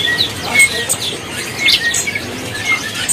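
Small caged songbirds chirp at a bird market in quick, scattered tweets amid a noisy ambience, several high calls overlapping at moderate volume.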